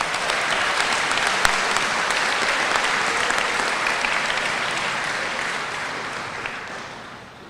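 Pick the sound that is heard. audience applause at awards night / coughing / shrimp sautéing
audience applause at awards night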